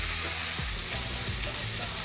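Eggplant with green chilli, turmeric and salt fries in a pan, a steady close sizzle with soft scraping stir strokes, no talking.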